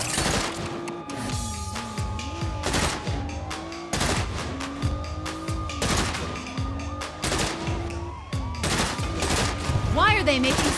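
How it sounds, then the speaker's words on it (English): Rapid, repeated gunfire in the video game Saints Row: dense bursts and volleys crack continuously through the whole stretch, with shouted voices over the shooting. "Keep shooting!"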